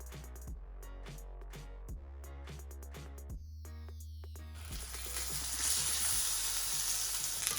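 Meat, cheese and flatbread sizzle and crackle in a hot pan for tacos, with scattered clinks and scraping early on before the frying hiss grows louder and denser.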